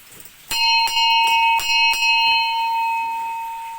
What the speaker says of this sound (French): pour le plaisir des enfants, une petite cloche